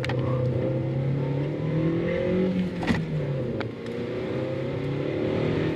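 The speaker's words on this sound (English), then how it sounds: "Now we are in the car." Steady low engine drone and road rumble fill a car's cabin while driving, constant and close, with a brief knock near the middle and no talk.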